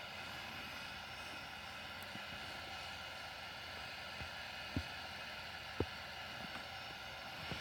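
Boeing 737-800 taxiing to its parking stand in the Infinite Flight simulator, a steady faint engine hum with a few soft clicks and thumps over it.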